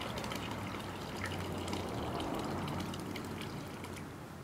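AquaJet Pro 9V solar fountain pump spraying water outdoors, a soft continuous splashing and trickling hiss with faint droplet patter, quiet and steady.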